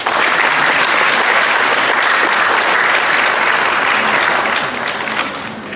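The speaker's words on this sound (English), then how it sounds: "Let's give him a round of applause." A crowd at a book lunch honouring a World War 2 veteran applauds with loud, dense, sustained clapping that tapers slightly at the close.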